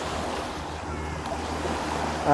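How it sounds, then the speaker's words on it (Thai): Surf washes onto the long sandy beach of Ban Wang Ngan in Thailand, a fishing area near a cape: a steady, broad wash of waves with wind noise, loud and close, and no clear speech. "นี่คือชายหาดของ บ้านวังงานนะครับ"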